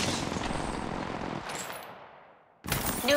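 A burst of automatic gunfire in a squad-based battle royale video game fades into a brief decaying tail and a short pause, then a fresh loud blast cuts in near the end.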